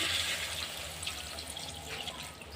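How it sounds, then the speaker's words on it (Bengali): Water pours into a pot of sautéed bottle gourd and potato for a lau chingri curry, a short, steady splashing gush that is loudest at the start and fades slightly, with no talking. "আমি এবার জল ঢেলে দেবো জলটা আমি দিয়ে দিলাম"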